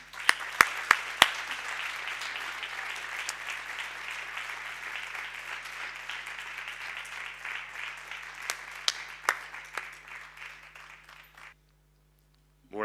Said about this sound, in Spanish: Pido un fuerte aplauso para Manuel Molino Molino.